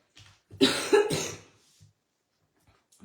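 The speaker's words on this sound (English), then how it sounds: "So I apologize about the coughing," A person coughs twice in quick succession, close and fairly loud, followed by quiet with a faint throat sound.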